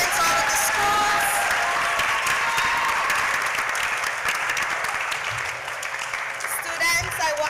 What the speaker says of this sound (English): I'm going to invite you one more time to give a rounding round of applause